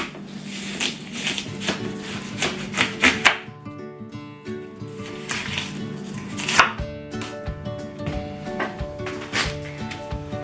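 A knife cuts through a watermelon to take off both ends, with firm chopping thuds and crisp knocks on a cutting board in two bursts, close and clear with no speech.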